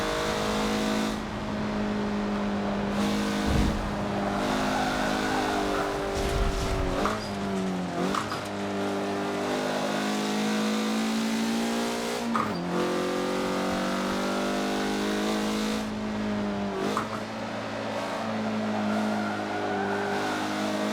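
A 2013 Mazda MX-5 Cup race car in Forza Motorsport 7 at the Nordschleife drones steadily at high revs, with repeated gear shifts, revving swings and occasional tire squeal over a long stretch.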